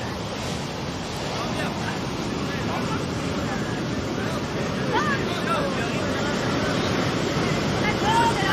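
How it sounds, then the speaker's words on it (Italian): Sea waves surging after an earthquake and tsunami, a constant rushing wash heavily mixed with wind buffeting the microphone, with faint voices in the background. "guardate le onde là"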